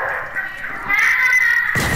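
A dog yips and whines excitedly indoors, a sustained high-pitched vocal sound that ends in a sudden noisy burst.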